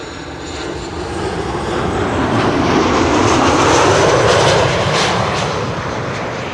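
Airliner arriving on runway 06 at Amsterdam Schiphol, a broad jet engine roar swelling to a loud peak mid-pass and easing off, with no talk.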